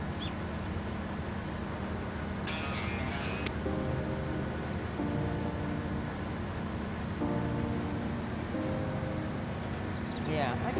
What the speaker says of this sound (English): Oh no, there's gonna be rain.